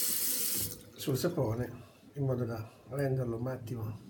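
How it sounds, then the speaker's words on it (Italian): Tap water runs into a sink while shaving soap is being lathered, a soft steady flow beneath someone speaking Italian close to the microphone. "ho aperto l'acqua, metto un goccio d'acqua"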